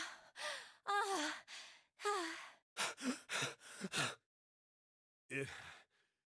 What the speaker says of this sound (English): Oh, again, panting from every character again?